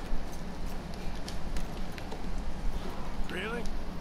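Rhythmic clip-clop of horse hooves in Red Dead Redemption 2 over steady rumbling ambience, with a brief voice near the end.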